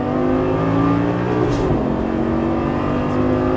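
A Lamborghini Gallardo LP550 accelerates on a race track, its engine droning loud and close with steady harmonic tones that bend and climb as revs rise through a shift.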